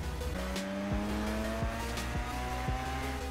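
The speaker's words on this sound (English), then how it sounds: "Let's have a quick drift." A car drifting in the racing game Forza Horizon 3, driven with a Logitech G29 wheel: a steady engine drone with repeated shifts in pitch and sustained tire squeal running throughout, close and continuous, with no talking.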